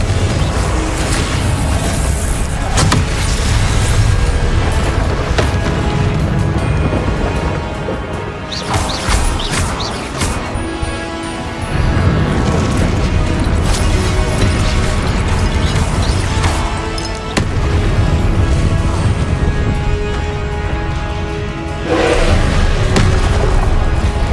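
Confringo explosive spell cast in the Hogwarts Legacy video game, loud crashing blasts and booming impacts packed densely over a constant roar of game action and music, with brief dips between bursts.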